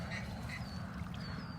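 Ducks quack at a distance during a hunt over shallow flooded milo sheet water with decoys, a few brief calls standing above a steady low rumble of wind and outdoor noise.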